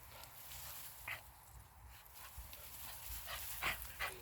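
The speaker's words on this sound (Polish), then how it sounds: "Tak, dobry pies." Dog panting softly and padding about on foot nearby, quiet breaths with a few brief sniffs or whimpers.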